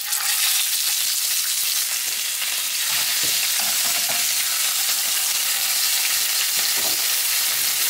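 Flathead fillets fry in sunflower oil in a very hot pan, giving a steady, loud, broadband sizzle and crackle that runs continuously with small spits and pops, no voices.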